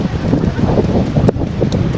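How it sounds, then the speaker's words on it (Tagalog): Steady wind blows outdoors and buffets the microphone with a loud, continuous rushing roar and some rustling throughout. "Sobrang sarap ng hangin."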